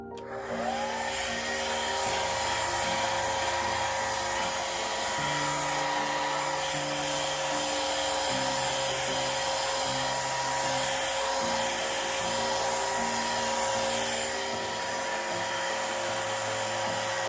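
A handheld hair dryer blows on a freshly painted canvas, giving a steady, close, continuous whirring roar with a constant motor hum that holds unchanged from start to finish, with no voices.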